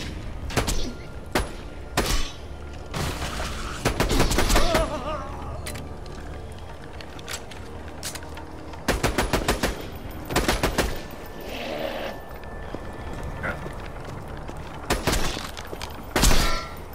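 Rapid gunfire in Borderlands 2, loud bursts of shots in clustered volleys separated by short pauses, with an occasional voice in between.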